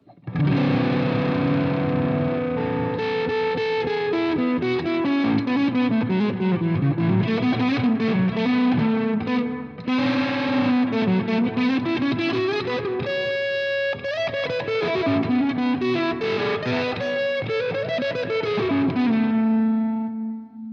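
Distorted electric guitar through a Hot Socket pedal with the volume knob turned up, playing a continuous gritty melodic line with sustained overdriven chords, loud and close, no voices.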